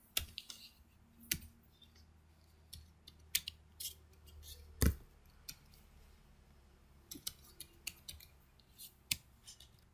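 Typing on a computer keyboard during a JavaScript coding session, scattered faint clicks and sharper isolated key taps at an irregular pace, with one heavier thump midway.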